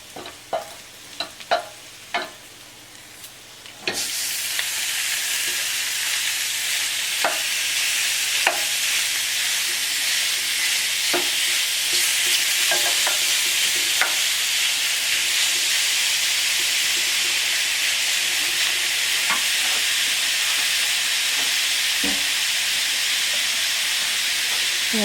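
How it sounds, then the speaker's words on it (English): Pork browning in a pan alongside softened onions and garlic: a few light clinks, then a loud hiss of frying bursts in and holds steady, with occasional soft clicks over the continuous sizzle. "I'm going to add the pork to one side of the pan and start browning it off."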